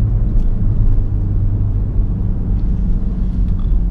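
A 2013 Peugeot 508 Hybrid rated at 200 horsepower pulls hard, giving a loud, steady, low engine rumble heard from the cabin without speech.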